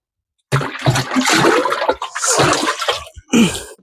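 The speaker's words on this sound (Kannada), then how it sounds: "ಈ ರೀತಿ ನೀರು ಹಾಕೊಂಡು ಮಿಕ್ಸ್ ಮಾಡ್ಕೊಳ್ತಾ ಇದ್ದೀನಿ" Water gushes and splashes into a barrel as a crop spray mix for a pigeon pea field is made up, loud churning bursts with short breaks after a silent start.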